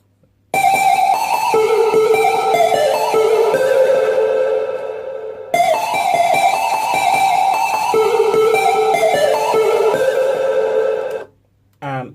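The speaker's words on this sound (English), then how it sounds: "After that, I added a synth," A sustained synthesizer pad plays a wavering melodic line, loud and continuous, restarting once midway before cutting off near the end.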